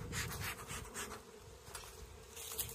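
Honeybees buzz steadily inside an open hive during an inspection, a dense continuous drone with many wings close by, some fluttering bursts rising and falling.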